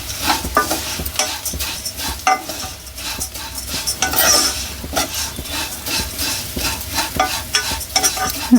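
Flattened rice and vermicelli fry together in a pan, giving a close crackling sizzle punctuated by rapid, rhythmic scraping and clinking of a spatula stirring against the metal.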